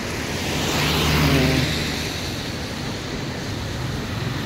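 A Porsche 997 GT2 sports car passing, a moderate engine note that swells to a peak around the middle and then fades into steady road and wind noise outdoors.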